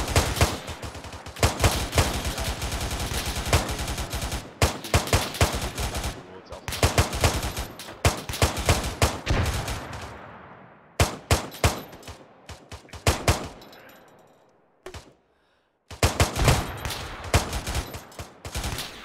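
A squad in ArmA 3 opens fire: loud, close bursts of rifle and machine-gun fire in ragged clusters with short pauses, some echoing shots, and brief silent gaps between volleys.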